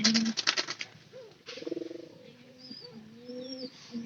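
A pair of pigeons coos in a nest lined with straw, giving soft rolling throaty calls close by, with a few sharper chirps and a brief clatter early on, and no talking.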